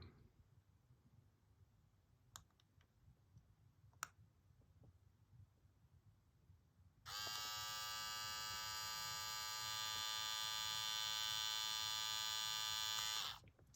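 After a few faint clicks, electric hair clippers switch on and run with a steady, high-pitched buzzing hum for several seconds before stopping.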